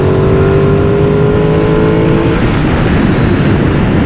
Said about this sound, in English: that sound is nice, that exhaust note is nice